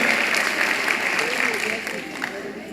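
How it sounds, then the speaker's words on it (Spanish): An audience applauds at a Bible study talk, a short burst of clapping that thins slightly toward the end, with some voices mixed in. "Un aplauso"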